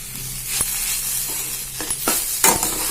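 Banana flower and lentil crumble stirred in a pan, a soft steady sizzle with scraping strokes of a spoon against the pan.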